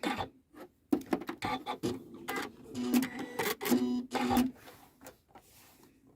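A Janome sewing machine stitches through four layers of decent-weight denim, a fast, uneven mechanical chatter of needle strokes with loud bursts and short pauses, close up and with no talking.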